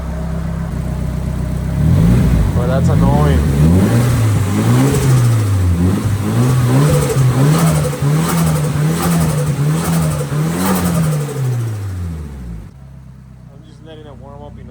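A car with an SR20 engine warms up for an oil change, idling and revving repeatedly in rising and falling waves, loud and close, with someone talking over it before it cuts off.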